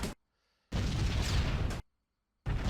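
Flak bursting around a bomber in the B-17 The Mighty 8th flight game: two long, loud roaring blasts separated by near silence, with a third starting at the end.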